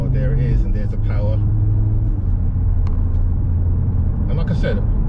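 A car's engine pulls hard under acceleration, a loud low drone that shifts pitch as it builds power, with someone talking over it throughout.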